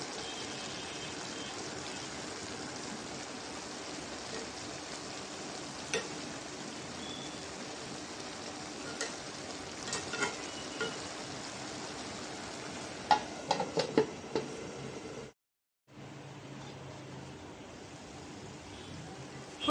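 Fish frying in a pan with potato and coriander leaves gives a faint, steady sizzle, with a few soft clinks of stirring toward the end and a brief drop to silence.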